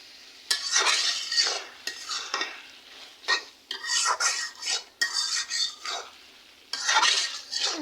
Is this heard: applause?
no